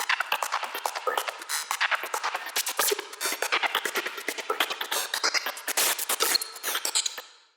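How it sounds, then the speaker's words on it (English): Psytrance grid effect built from layered drum synths: a rapid, stuttering run of bright, gated percussive bursts, dense and loud, chattering almost like machine-gun fire for the full stretch before cutting off. "there's a little grid effects that I did with drum synths"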